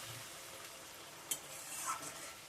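Spice masala for a raw banana curry fries and is stirred in a pan after a splash of water, giving a faint continuous sizzle with one sharp utensil clink partway through.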